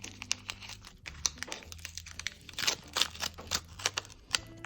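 Crinkly paper rustles and tears in quick irregular bursts, close up and fairly quiet, with no talking.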